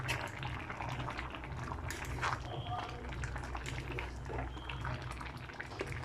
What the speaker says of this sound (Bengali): হাই হিটে দুধ ও গাজরটা খুব ভালোভাবে রান্না করতে থাকবো